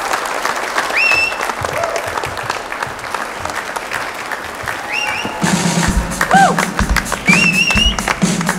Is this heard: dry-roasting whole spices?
no